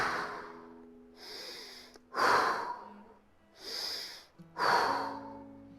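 Deep breaths are taken during a yoga pose, with slow inhales and exhales alternating. There are about five long breath sounds spaced over several seconds, close and fairly soft.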